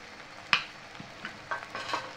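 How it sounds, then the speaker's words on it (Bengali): A spoon stirs spicy pasta with soy sauce and tomato hot sauce in a hot pan, giving a few scraping clinks over a low, steady sizzle, close up with no talking. "এখন বেশ সুন্দর করে আমি সব মশলা এর সাথে মিশিয়ে নেব, তাহলেই কিন্তু তৈরি হয়ে যাবে আমার ঝাল ঝাল পাস্তা"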